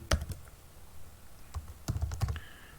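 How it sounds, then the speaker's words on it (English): Scattered keystrokes on a computer keyboard while typing an email subject and message, a few quick taps near the start, a pause, then a denser run of clicks. "type a subject and type your short message for email"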